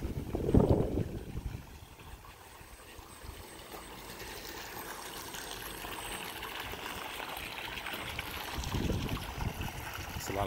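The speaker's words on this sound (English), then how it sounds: "Flip the on switch. Lights on. System. Pump. Pump's running." A Happybuy solar pool pump running with water flowing through 1.5 inch PVC pipe, heard as a steady rushing, gurgling flow, fairly faint, with brief low voice sounds near the start and end.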